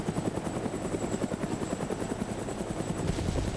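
Steady helicopter rotor thumping in the video game DayZ, loud and continuous, with a rapid rhythmic chop throughout.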